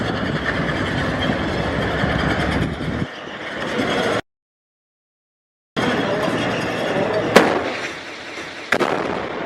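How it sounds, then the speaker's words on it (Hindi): A bomb explosion destroys tanks in a heavy, roaring, distant-sounding rumble with cracking bursts. The sound cuts to total silence briefly, then resumes with more sharp cracks. "जिस जगह पर बम गिरा करके सब कुछ तबाह किया गया है"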